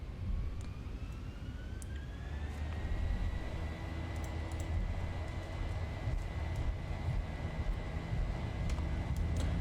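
Twin jet engines of a Boeing 737 in X-Plane 11 spool up for takeoff, a rising whine that climbs in pitch over a heavy rumbling roar and then holds at a high, steady thrust.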